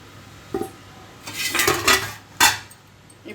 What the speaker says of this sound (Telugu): మూత తీసి చూద్దామండి.